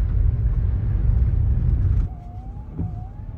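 A Rivian electric truck on big all-wheel-drive tires rolls through a soupy, muddy road in Wyoming, giving a loud, steady low rumble that drops abruptly to a quieter hum partway through, with a brief thump near the end.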